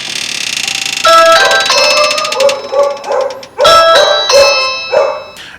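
A Ring Video Doorbell 2 chime rings loud and close, a two-tone ding-dong repeated several times, with a dog barking in short bursts between the chimes.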